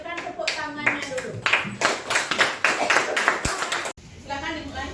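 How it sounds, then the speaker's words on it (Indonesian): A classroom of students applauds a presenting group, a loud dense burst of hand clapping that runs for several seconds, then drops away as a voice starts speaking near the end. "Kalau sudah cukup, berikan tepuk tangannya dulu."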